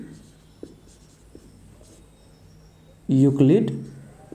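Light scratchy writing strokes on a board or paper during a Class 10 maths lesson come up faint and sparse, then a voice speaks loudly near the end.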